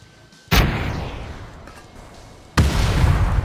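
Naval-style gunfire in PUBG lands as two loud booming shots, the first followed by a long decaying rumble, the second a sharp close blast with sustained roar.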